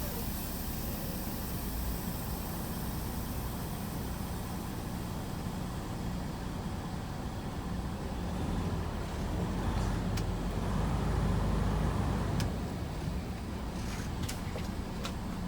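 A semi truck tractor pulls forward slowly in drive with both spring brake valves pushed in for a service brake test, a steady low engine rumble and road noise throughout.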